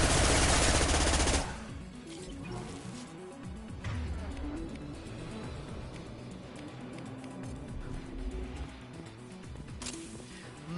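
Weapon fire in Mass Effect 2 opens with a loud rapid burst, then continues as scattered shots and game combat noise at a lower level, ending with a final sharp blast.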